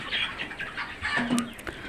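Fayoumi hens on a poultry farm cluck in short, scattered calls close by, with a few louder squawks and light rustling, and no one speaking.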